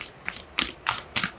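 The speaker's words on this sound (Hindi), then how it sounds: "One more shuffle, Taurus." Tarot cards are shuffled in quick, crisp bursts, about five short riffling rattles close by with brief pauses between them.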